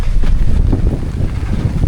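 Strong wind roars across a beach on Magalawa Island, a loud, gusting rush buffeting the microphone without pause and nobody speaking.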